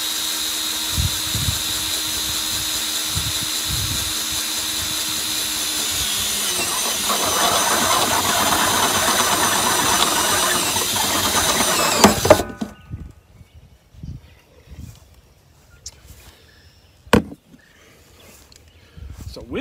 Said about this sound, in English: we would just simply start to drill